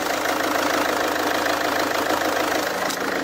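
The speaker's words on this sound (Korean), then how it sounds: "이 정도의 일반적인 랜드로버 정도의 엔진 소음을 만나보실 수가 있고요" A diesel Land Rover engine idles with a steady, even drone and a faint knocking texture, heard alone and up close.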